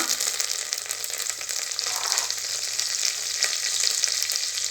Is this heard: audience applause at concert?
no